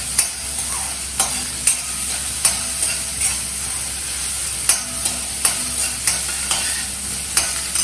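Food is stirred while it fries in a pan for a bread-slice lasagna: a steady sizzle with regular scraping strokes about every half second to second, close and clear, with no talking.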